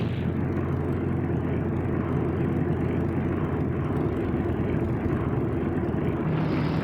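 A 2,000-horsepower Vought Corsair fighter with a large four-blade propeller flies past in a steady, loud, rumbling engine drone that holds without a break.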